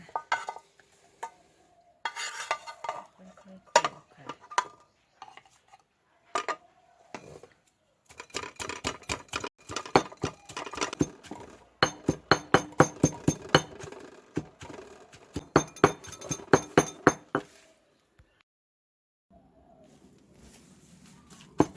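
Roasted shallots and garlic sprinkled with salt are pounded in a mortar for a Thai chili dip, giving irregular thuds at first, then a long run of steady, rhythmic, close pestle strikes before the clip falls quiet.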